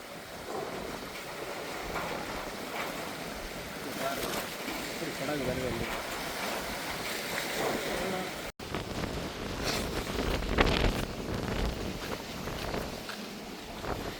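A boat approaching from Nainativu island near Jaffna during a storm, with heavy wind roaring and waves churning continuously. Someone talks over the rough, buffeting noise.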